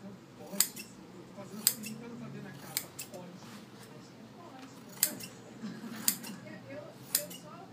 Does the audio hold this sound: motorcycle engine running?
no